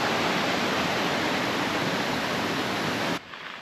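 The Bang Max waterfall roars as a loud, steady wall of rushing water, close and unbroken, then drops suddenly to a quieter rush at the very end with no voices.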